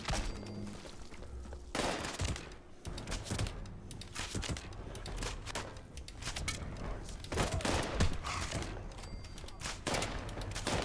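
In Fallout 76, a compound bow fires fast, making a dense run of sharp snapping shots with rapid clicks and impacts that nearly blur together, loud and busy throughout.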